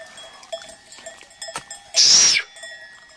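A sheep flock wearing bells grazes on a green highland pasture with pine trees: light bell clinks and shuffling sounds lead up to one loud, close bleat lasting about half a second, then the bells continue softly.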